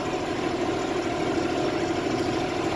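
A John Deere tractor idles outdoors in winter snow, its engine giving a steady, even rumble close by with no break or change in pace.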